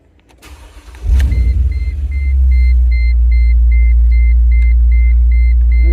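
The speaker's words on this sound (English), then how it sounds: "let's start the engine." A Mercedes-AMG G63 engine cranks and catches with a loud burst, then settles into a deep, steady idle close by while a regular electronic chime beeps repeatedly over it.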